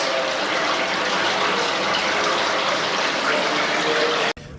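Water from a sensor-activated flush gushes steadily down the wall of a public urinal in Amsterdam, a loud, continuous close-up rush that cuts off abruptly near the end.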